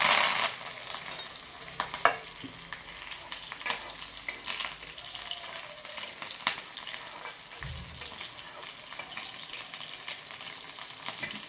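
Mustard seeds, green chillies and curry leaves sizzle and crackle in hot oil, a steady frying hiss with scattered sharp pops and a few utensil scrapes.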